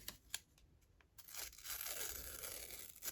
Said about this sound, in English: What I like about these wide washi tapes is you can rip them down.